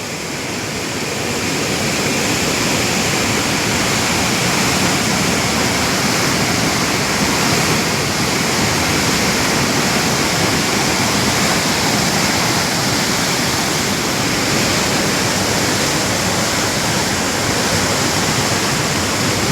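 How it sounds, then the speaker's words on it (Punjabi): A loud, continuous roar of water rushing over a dam wall, dense and unbroken, a powerful flow with no voices. "ਨਖੇ ਵਾਲੀ ਕੰਧ ਤੇ ਪਾਣੀ ਚੜ ਗਿਆ"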